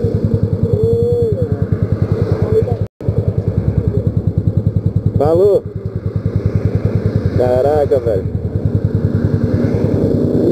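A Honda NC 750X motorcycle idles close by with a steady, rapid thumping pulse that drops out for a moment, while voices talk briefly over it.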